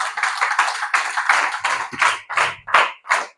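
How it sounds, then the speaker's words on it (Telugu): Congregation at a church service clapping their hands loudly together, a run of sharp, rhythmic claps close by, with no talking. "కొట్ట గట్టిగా చప్పట్లు"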